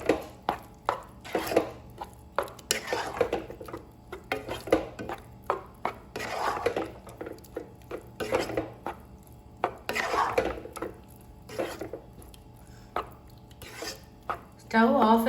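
A spoon stirs curd into cooked beetroot in a pan while making beetroot pachadi, giving irregular scrapes and light metallic clinks against the pan, fairly quiet, with pauses between strokes.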